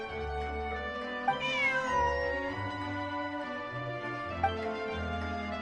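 A cat meows in Genshin Impact, a few clear, rising mews over steady background game music, close and fairly loud.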